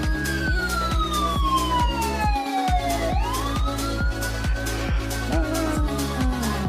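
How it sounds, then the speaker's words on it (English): A siren sound effect played on a livestream, with loud wailing tones sweeping up and down over a steady, pounding rhythmic beat that continues throughout. "You get the sirens."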